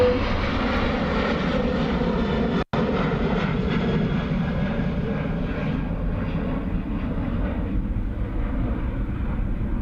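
An ATR turboprop airliner taxis at a rain-soaked Dublin Airport, its engines giving a loud, steady droning roar that holds close and constant throughout.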